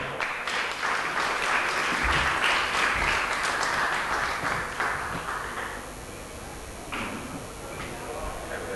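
An auditorium audience at a Tel Aviv tech conference breaks into loud, sustained applause welcoming a guest onstage, a dense clatter of many hands that swells and then gradually thins out, with a voice talking over it.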